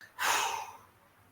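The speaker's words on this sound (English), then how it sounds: "When you're doing purging exercises," A single deep qigong purging exhale pushed out through the mouth, a breathy rush that swells quickly, then tapers away over about half a second, close and alone with no talking.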